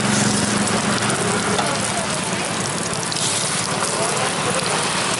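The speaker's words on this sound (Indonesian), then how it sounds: "terus langsung digoreng" Egg-coated meatballs deep-fry in hot oil with a loud, dense, continuous sizzle and crackle heard up close, steady from start to finish.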